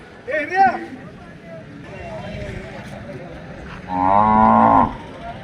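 Cattle low twice, a short moo followed later by a longer, louder one, over a busy outdoor murmur of people and activity at a bull market in Gadag.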